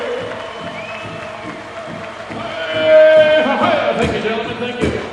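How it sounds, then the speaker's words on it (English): Crowd at the Morongo powwow applauding and cheering the honor guard, moderate clapping and scattered shouts swelling midway, with an announcer's voice over it. "Let's give our honor guard a round of applause"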